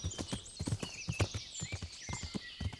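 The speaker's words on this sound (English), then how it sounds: "We just have a bit of a training with our horsey to actually learn how good she is and how to maneuver her." Horse hooves clip-clopping in quick, uneven beats while riding in the medieval game Kingdom Come: Deliverance, close and crisp, with a brief whinny-like tone over the steps.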